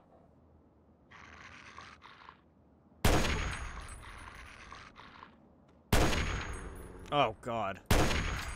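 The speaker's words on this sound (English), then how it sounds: "Took 3 rifle shots to take it down." Loud, sharp rifle gunshots in Fallout 3 ring out as three separate blasts with quiet gaps between them. Someone speaks briefly in between, and a growling creature call is heard near the end.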